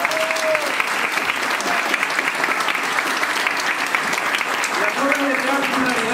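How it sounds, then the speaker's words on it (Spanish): A theatre audience gives a cast a long, loud round of applause after a play, dense continuous clapping throughout, with voices and cheers rising over it now and then. "El aplauso grandioso para todos."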